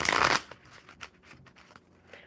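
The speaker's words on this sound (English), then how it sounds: "One more shuffle." A deck of tarot cards gets a brisk riffle shuffle up close, a dense burst of flicking paper followed by quieter soft taps and card handling, fairly faint overall.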